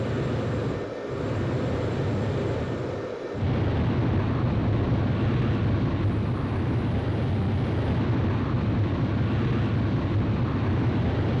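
A fighter jet in the video game Ace Combat 5 roars loud and steady through takeoff, a dense broadband engine blast that briefly dips then swells and holds at full thrust, with no voices over it.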